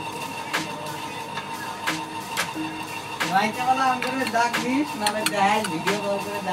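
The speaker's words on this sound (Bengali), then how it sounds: "তো এখন আমি মাছের ঝোলটা বাটিতে বেড়ে নেব" Fish curry is ladled into a bowl, with repeated close clinks and taps of metal utensils and dishes, the scraping and knocking growing busier toward the end.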